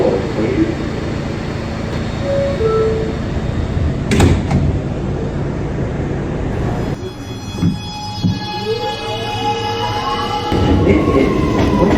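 An R211 A express subway train at 175th Street: the doors chime and slide shut, then the train rumbles and begins pulling away with rising tonal whines, loud and close on the platform.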